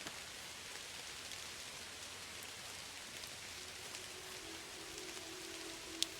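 Steady rain falling in the point-and-click adventure game Kathy Rain, a dense, even hiss that holds at the same level throughout with one faint tick near the end; no one speaks.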